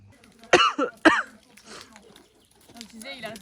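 A person coughs twice in quick succession, two sharp, fairly close bursts, followed by quieter room sound with faint voices talking in the background.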